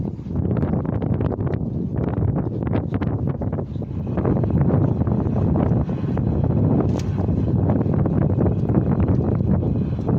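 Strong wind on a narrowboat buffets the microphone in a continuous loud roar, gusting and rumbling without pause.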